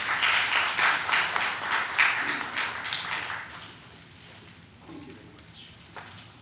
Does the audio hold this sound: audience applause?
yes